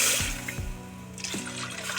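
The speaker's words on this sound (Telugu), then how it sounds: "1/2 లీటర్ పాలు వేసుకుంటున్నాను" Half a litre of milk pours into a pot on a gas stove in a few short splashing bursts, then a quieter liquid trickle, close and fairly soft.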